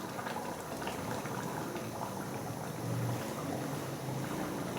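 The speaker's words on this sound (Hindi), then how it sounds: "अभी हम इसके अंदर डाल देंगे कुकिंग ऑयल" Cooking oil sizzling and bubbling steadily as it goes into a pan of beef karahi, a continuous frying hiss with a brief louder surge midway, no voices.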